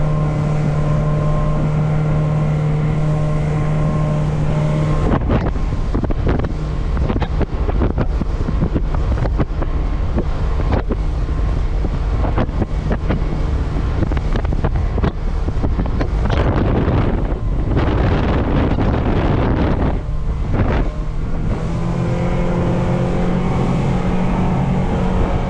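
An Alumacraft FSX 185 Competitor aluminum boat driven by a Honda BF 150 outboard runs at wide-open throttle, a loud steady engine drone mixed with heavy wind buffeting and hull slap on water, with no talk.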